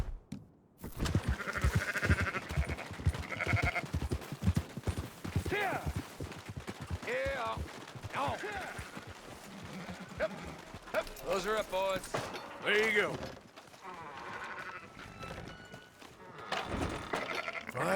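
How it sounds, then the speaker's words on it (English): Sheep bleat repeatedly in Red Dead Redemption 2, wavering calls mixed with clattering and hoof-like knocks, while someone talks over much of the scene. "Fine sheep."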